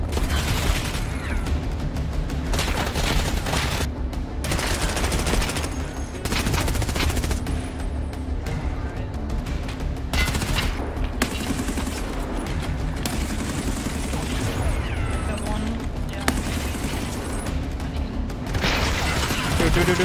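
Gunfire in a tank video game, with repeated bursts of shots and rapid automatic fire rattling throughout, close and loud, with occasional voices talking over it.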